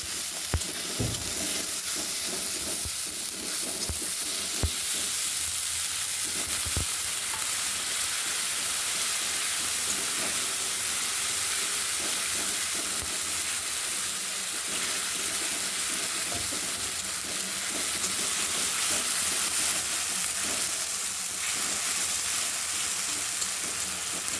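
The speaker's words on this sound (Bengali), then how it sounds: "আদা বাটা, জিরা, ধনে, হলুদ একসঙ্গে মিশিয়ে আমি তেলের মধ্যে ছেড়ে দিলাম। এবার কষিয়ে নিচ্ছি।" Ginger paste, cumin, coriander and turmeric sizzle steadily in hot oil, with intermittent scraping stirs from a spoon across the pan, loud and close throughout with no talking.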